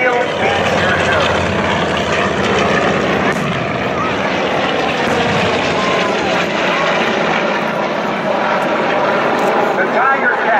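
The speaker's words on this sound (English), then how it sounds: "The Tiger Cat, top speed 460 miles per hour, the fastest twin-engine fighter in the Navy." A Tiger Cat twin-engine Navy fighter flies over an air show in Houston, a loud, steady propeller-engine roar that fills the whole stretch while a voice talks over it.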